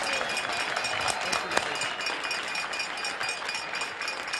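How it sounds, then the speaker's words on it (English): A ballpark crowd applauds longtime public address announcer Roy Steele, steady distant clapping that holds for the whole stretch with faint murmur. "round of applause to Roy Steele"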